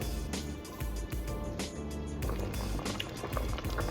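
A pot of Jamaican stew peas with dumplings boils uncovered on the stove, giving a continuous close, loud bubbling and popping throughout.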